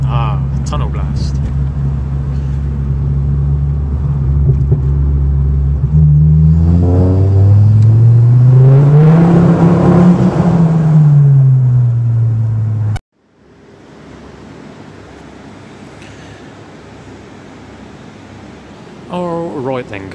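A Ford Focus ST 225 mk2 engine roars through a tunnel, revs climbing and falling loudly and echoing, then cutting off abruptly to a quieter steady cabin drone.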